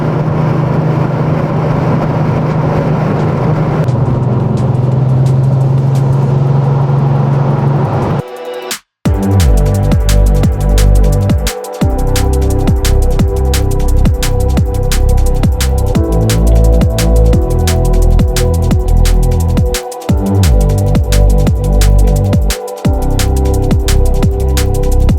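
A Porsche 964 Turbo, a car over 30 years old, drives on the Wangan highway in Tokyo heading toward Daikoku PA. The engine note is loud and close and sustained, breaking briefly into gaps that suggest gear shifts.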